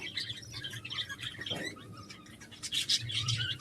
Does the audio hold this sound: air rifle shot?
no